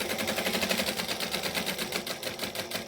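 A sewing machine stitches a back stitch at a corner while a pattern is being made, giving a steady, fast mechanical clatter that runs continuously at close range with no voices.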